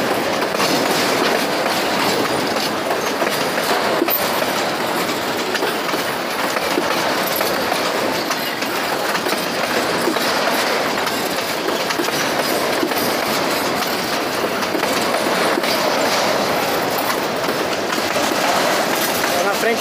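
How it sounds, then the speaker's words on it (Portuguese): Freight train wagons roll past at a level crossing with continuous rumbling, rocking and rhythmic clickety-clack of wheels over rail joints, loud and close, with faint wheel squeal throughout. "Vagões balançando aqui, ó."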